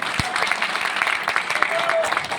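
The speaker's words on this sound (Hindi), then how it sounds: "जोरदार तालियां।" An audience claps in dense, continuous applause, a steady patter of many hands close by with a few sharper individual claps standing out.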